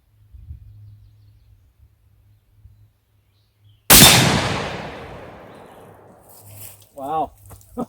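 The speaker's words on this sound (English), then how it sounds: "How many water bottles will this tungsten core bullet penetrate through after penetrating through 1/2 inch thick AR-500 steel?" A single loud .338 Lapua tungsten-core rifle shot strikes half-inch AR-500 steel with a sharp crack and a long decaying echo, heard outdoors after a quiet low hum, followed by brief voices.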